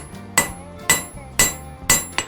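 A hammer strikes hot steel to knock down corners while forging simple tongs, giving four evenly spaced, ringing blows at close range with a couple of lighter taps at the end.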